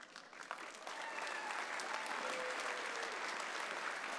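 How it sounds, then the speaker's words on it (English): A graduation convocation audience at NorQuest College breaks into applause, building quickly from scattered claps into a steady, even roar of many hands held at moderate distance. "Please join me in a round of applause for everyone"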